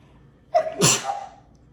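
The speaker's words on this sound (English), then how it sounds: "oh, I gotta sneeze, hold on" One sharp, close sneeze with a quick breathy intake before it, alone against quiet background.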